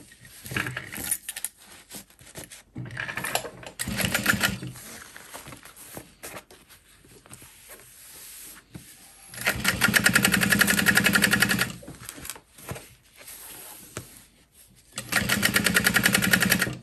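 A sewing machine top-stitches a backpack in two steady runs, one lasting a couple of seconds and one near the end, with quieter handling noises between them.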